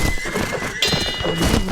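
A horse neighs sharply during a battle in the video game Mount & Blade Warband, set in a Hundred Years' War scenario. The short whinny is mixed with hoof clip-clops and thuds, and there is no talk.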